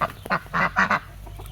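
Ducks on a backyard poultry plot give a few loud, close honking quacks in quick bursts, then fall quiet with only low background hum.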